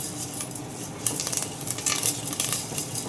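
Curry leaves and chilli flakes tempering in hot oil in a pan, giving a short, close, crackling sizzle with faint clinks of a utensil.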